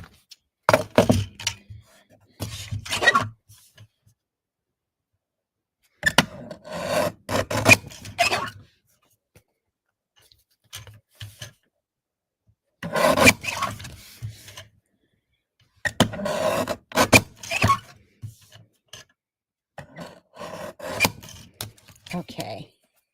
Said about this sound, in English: And we'll trim this off just a little bit.